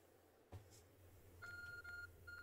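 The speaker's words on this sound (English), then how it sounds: "Oh, my Arceus phone is telling me something." The Arceus Phone in the Pokemon Legends Arceus video game gives a short series of high, evenly spaced electronic beeps after a soft thump, faint but distinct over quiet game ambience.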